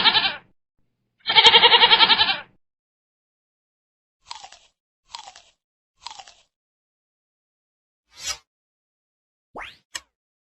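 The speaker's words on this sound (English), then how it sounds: "is for goat." Goat bleating in short separate calls: two loud, wavering bleats at the start, followed by several faint, brief cries and a couple of quick squeaky sounds, with silence between them.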